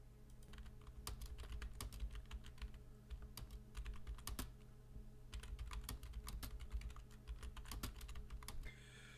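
Computer keyboard typing while writing a story, with rapid, irregular bursts of crisp key clicks and occasional heavier thumps, heard close and continuous over a faint room hum.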